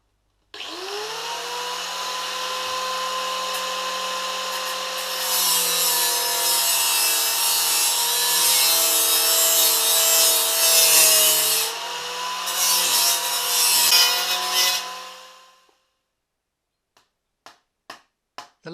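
Wooden fuel tank panels for a Panther Model 50 being trimmed to scribed lines with a power tool: a steady, whining cutting drone for about fifteen seconds, then a few sharp wooden taps after it stops.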